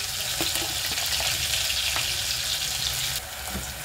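Okra soup ingredients fry in a pot with a steady, close, loud sizzle and a few light stirring clicks, the hiss dropping slightly near the end.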